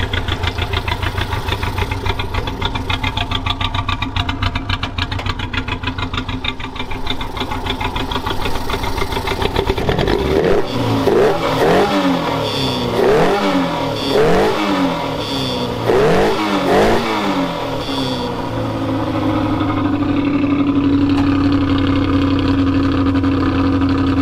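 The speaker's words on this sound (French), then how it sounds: "Si ça c'est pas un moteur bien réglé." Original-engine Renault 4L idling steadily, then revved in a series of rising and falling throttle blips, before settling back to a smooth, even idle, close to the microphone with no talking.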